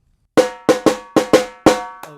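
Samba bateria ending pattern in call-and-response style, six sharp, loud percussive strikes in an uneven rhythm, each ringing with a metallic decay, then a softer final hit, with silence before the first stroke.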